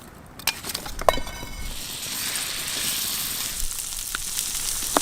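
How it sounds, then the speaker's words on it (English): Butter sizzles and spits in a hot pan over high heat at a rainy backcountry campsite, a steady hiss after a few metallic clinks. "The butter in the pan"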